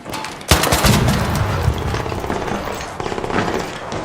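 Rapid bursts of gunfire in a video game, loud and sustained, one weapon fired, reloaded and fired again in a dense clattering stream with a few heavier booms.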